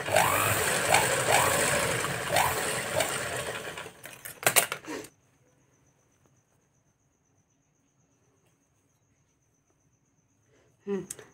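Sewing machine stitching a tuck into a garment seam for fitting, a loud steady run for about four seconds that stops, then near silence with a brief burst of stitching at the end.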